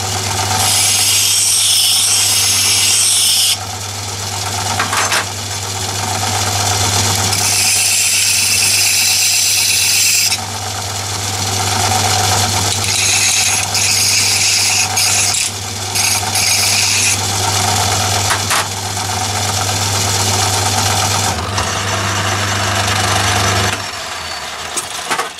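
A metal lathe turns and faces a metal weight, producing a continuous steady motor hum under harsh scraping and hissing cutting noise that swells and eases in long passes, close and loud throughout.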